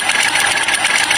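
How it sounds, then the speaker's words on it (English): A car engine with an abnormal turbocharger noise running steadily, a loud, sustained mechanical whine and whirr with slight rhythmic pulsing, heard close and alone. "turbocharger abnormal noise"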